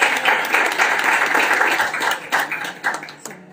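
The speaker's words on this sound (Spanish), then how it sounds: "Un aplauso para ellos." Studio audience applauding two guests on a Valencian Fallas talk show about the 2023 municipal falla, a dense burst of clapping that thins toward the end.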